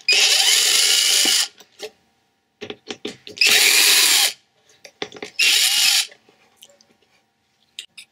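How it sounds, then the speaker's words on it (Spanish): A power screwdriver backs screws out of a 2009 iMac during a memory and hard drive upgrade, three loud whirring bursts of about a second each, separated by small clicks and handling noises. "ahora vamos a sacar estos dos tornillos que vemos acá"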